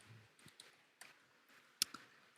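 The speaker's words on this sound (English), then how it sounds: "So, like I'm typing this with one hand." Keys tapped with one hand on a keyboard, giving a handful of quiet, irregular clicks spread across a couple of seconds, one sharper tap standing out near the end.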